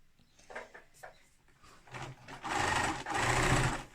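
A sewing machine stitching a tote bag seam at a lengthened stitch, starting with a few soft taps and then whirring steadily and loudly in two close, continuous runs.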